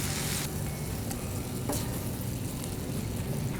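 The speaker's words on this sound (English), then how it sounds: "I'm going to give it a good mix." Coconut cream is worked into spinach in a hot pan, producing a steady, dense low sizzle and bubbling throughout, with a couple of faint clicks from the spoon.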